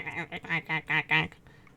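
A human voice imitates a duck quacking, giving a run of six nasal quacks in quick rhythm with a soft breathy trail at the end.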